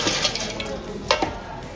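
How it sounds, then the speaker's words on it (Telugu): Fried chicken pieces going back into a pan of spicy village-style pickle masala, a short burst of sizzling with scraping stirs and a couple of sharp clinks of a utensil against the pan, close up. "సో ఇప్పుడు పచ్చి వాసన పోయేంత వరకు వేయించుకున్న తర్వాత ఇందాక వేయించుకున్నాం కదా చికెన్ పీసులు, సో మళ్ళీ అందులో వేసేసుకోవాలి మళ్ళీ ఇలా."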